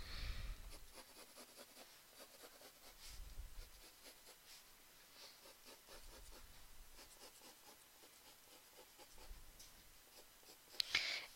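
Pen drawing a curve on paper, faint soft scratchy strokes in slow swells close to the microphone, quiet throughout with a brief sharper tap near the end.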